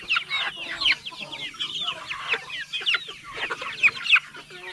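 Chickens cluck and chatter close by, a busy flock of overlapping calls with no talking.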